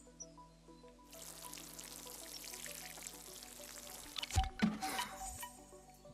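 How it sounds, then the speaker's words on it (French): Water poured onto a plant in the video game Dordogne, a steady trickling splash running for several seconds before a few louder clunks and shifts near the end, with no talking. "Je veux juste l'arroser la plante"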